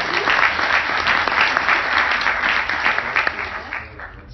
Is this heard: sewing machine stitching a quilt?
no